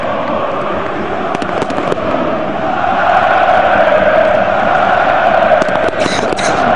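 A packed Red Star Belgrade stadium crowd roars through a flare display at a match against Smederevo, a loud continuous rumble that swells midway, with sharp crackling bursts cutting through the din.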